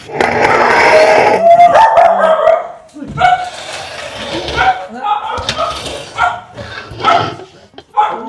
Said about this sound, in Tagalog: Ang ingay ng aso mo, no, Ate Lila?